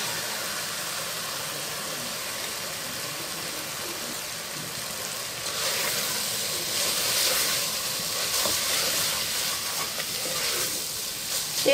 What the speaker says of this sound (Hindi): तेज चूल्हे से खाना डालने के थोड़ा सा इसको भून लेंगे